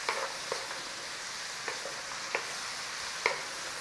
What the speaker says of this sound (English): a little bit of sautéing, and then we're going to chuck some garlic in here